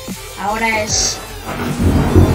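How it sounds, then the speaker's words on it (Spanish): A low thunderclap swells into a deep rumble at the end, beneath someone speaking Spanish. "eso fue un trueno que ni te lo imaginas"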